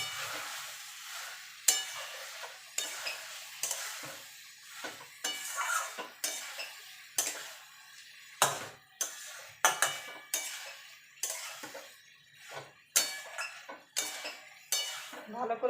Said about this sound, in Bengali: মিনিট খানেক ভালো করে আলু পটল আর মশলাটা কষিয়ে নেব